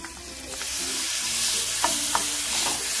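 Banana pieces fry in ghee in a pan while being turned and stirred, giving a continuous bright sizzle with a couple of soft scraping clicks, close and steady.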